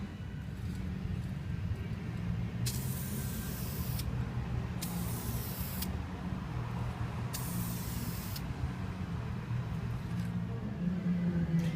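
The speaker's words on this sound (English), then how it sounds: "And we're ready to apply the paint." Spray gun painting Pedalpub seat posts in yellow, heard as three loud hissing bursts of a few seconds each over a steady low hum of background machinery.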